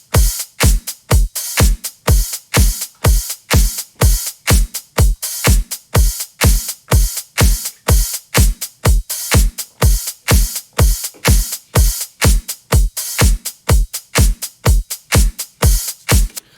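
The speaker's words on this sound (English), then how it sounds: "So some of the drums on their own sound like this, in the drop at least." Heavy electro house style drums from a dubstep remix drop pound out a fast, relentless pattern of loud punchy kicks and bright snares and hats, dense and steady throughout with no voices.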